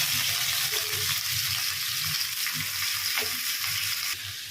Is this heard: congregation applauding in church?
no